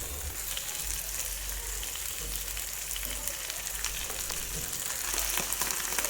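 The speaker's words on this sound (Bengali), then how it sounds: "ক্যাপসিকাম টমেটো পেঁয়াজের সাথে ভালো মতো ভেজে নিব" Capsicum, tomato and onion fry in a pan with a steady, dense sizzle and crackle that holds evenly throughout, with no talking.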